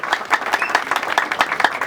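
An audience breaks into applause, a short burst of dense clapping, fairly close and lively.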